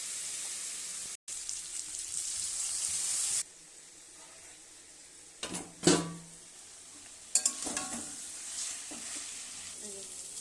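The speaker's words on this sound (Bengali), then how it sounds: "কাতল মাছটা রান্না করছি" Katla fish frying in a pan, a steady hiss of sizzling oil broken by a sharp cut, then quieter frying with a few clattering pan and utensil knocks.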